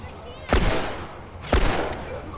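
Two loud gunshots ring out about a second apart in The Last of Us, each a sharp close crack with a brief decaying tail over a low background.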